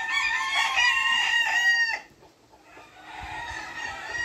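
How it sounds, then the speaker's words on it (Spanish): A heavy fighting rooster crows close by in one strong, drawn-out call, followed by a brief pause and softer clucking and stirring sounds. "Es un gallo fuerte, es un gallo que pesa 314."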